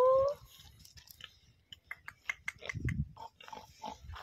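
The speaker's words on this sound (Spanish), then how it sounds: "Qué buenos cerdos ibéricos," Iberian pigs in the Sierra de Huelva countryside grunt and chew close by, with a short squeal at the start and then a scatter of soft grunts, snuffles and munching.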